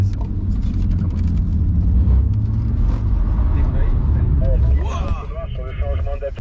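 A BMW M2 drifting through a corner on a track gives a loud, sustained engine roar that eases off near the end, where voices briefly come through.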